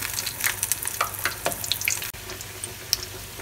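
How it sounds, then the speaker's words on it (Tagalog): Chunks of lechon kawali pork belly deep-frying in hot oil, a close, steady sizzle broken by sharp pops and crackles, with no voices. "Sa pagpiprito po ng lechong kawali, dapat po mas maging maingat tayo dahil mas marami po itong taba."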